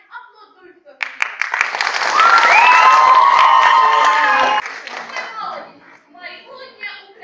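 An audience applauds and cheers at a children's stage performance of Ukrainian song. The clapping swells to a loud, dense peak, a voice sings over it, and then it fades back to scattered applause.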